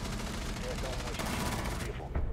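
Rapid, loud video game gunfire fills the clip in a dense burst of shots, with a person talking over it.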